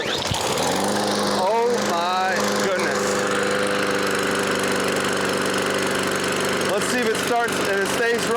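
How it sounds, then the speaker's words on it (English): An old, long-established lawn mower engine runs at a steady, loud idle with a constant low droning hum throughout, while a voice briefly speaks over it. "Looks like this is an old established mower."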